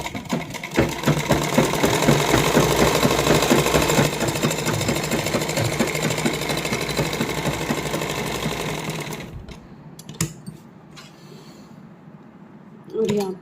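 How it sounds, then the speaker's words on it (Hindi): A sewing machine stitches the inner lining onto a heavily hand-embroidered suit, running in a loud, continuous close-up whir for about nine seconds before stopping, followed by a few quiet clicks and handling sounds. "और यहाँ पे सिलाई को लॉक कर देंगे और एक पंजे का गैप देके दूसरी सिलाई लगा देंगे"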